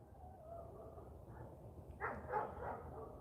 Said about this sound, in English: I hear the dogs barking. They're going nuts.